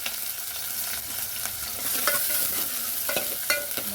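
Onions and chilies fry in hot oil in a pan for Nellore-style fish curry, with a continuous bright sizzle and a few light knocks of a stirring spoon.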